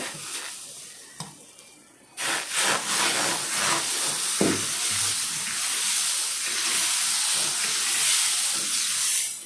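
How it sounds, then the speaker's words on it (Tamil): Dosa batter hits a hot indalium tawa after a quiet start, breaking into a sudden loud hissing sizzle that holds steady and close for several seconds. "இன்னொரு தோசை கூட ஊற்றி காமிக்கிறேன் நான் உங்களுக்கு"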